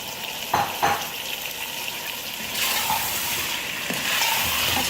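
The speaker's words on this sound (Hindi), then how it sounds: "अच्छी तरह से तेज़ आंच पे अब इसको भूनेंगे।" Pumpkin and chana dal fry on high flame with a continuous hissing sizzle, a couple of stirring knocks early on, and the frying swelling louder and more intense toward the end.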